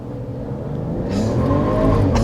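A 2025 RAM 1500 Tungsten pickup's turbocharged inline-six accelerates hard under full throttle in two-wheel drive, a loud, steady engine roar that climbs in pitch and grows louder throughout.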